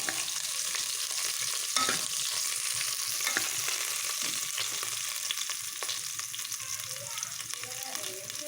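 Crushed cumin and green chilies fry in hot oil in a pan, giving a constant bright sizzle with occasional stirring scrapes throughout, close and fairly loud, with no voice.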